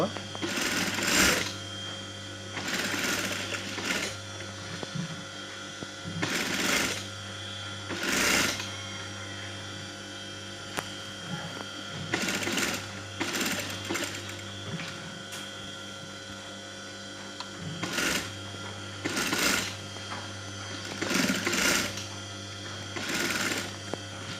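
A sewing machine stitches along the edge of a kameez band collar in short, repeated whirring bursts of a second or two, spaced through the stretch, with a voice talking at intervals between and around them.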